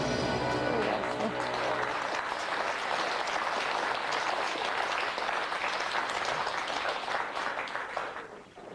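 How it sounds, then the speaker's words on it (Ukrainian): A studio audience on a Ukrainian Who Wants To Be A Millionaire set breaks into dense, sustained applause, loud and even for several seconds before tapering off at the end, with a voice briefly heard at the start. "Ви самі собі аплодуєте"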